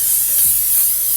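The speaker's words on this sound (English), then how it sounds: "So I'm going to spray this and lock this makeup look in place." A short burst of L'Oreal Infallible setting mist sprayed over a finished soft glam makeup look, a close, soft airy hiss lasting about a second with no talking.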